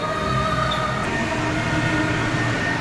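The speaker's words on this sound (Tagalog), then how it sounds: "Ito sakay ng mga tren" A children's ride-on train rolls through a shopping mall, a steady mechanical rumble and hum with faint tonal whine, heard close and continuous amid the mall's background ambience.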